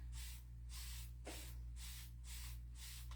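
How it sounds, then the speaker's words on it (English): A spray bottle releases a fine mist in six quick, evenly spaced hissing bursts, close and soft, with a low steady hum underneath. "I love the spray bottle that we have because it's really just a fine mist."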